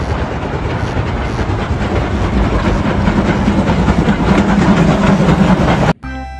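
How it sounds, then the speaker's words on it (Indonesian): A steady rattling, clattering rumble of a Thomas toy train running continuously, loud and close, cutting off abruptly at the end. "lihat teman-teman, ada kereta api Thomas"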